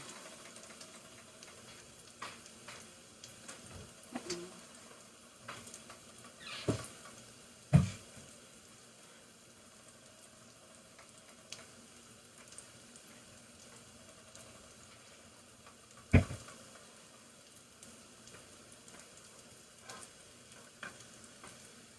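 Salmon croquettes fry in a pan on medium heat with a quiet, steady sizzle and crackle, broken by a few sharp clinks and pops, with no talking.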